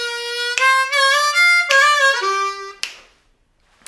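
A slow harmonica phrase, long bent reedy notes stepping downward, near and loud with no talk, ending in a short breathy puff before silence.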